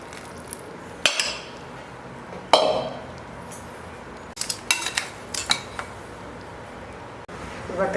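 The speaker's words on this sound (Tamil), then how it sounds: "பாகை ஊற்ற போகிறேன்" Jaggery syrup being poured over roasted poha, cashews and coconut and mixed in a metal vessel, heard as scattered sharp clinks and scrapes of a spoon against the pot, with quieter stirring between the knocks.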